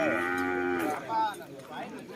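At a Thai cattle market in Huai Hin Lat, a cow gives one loud, close, drawn-out moo that fades, followed by a softer second low call.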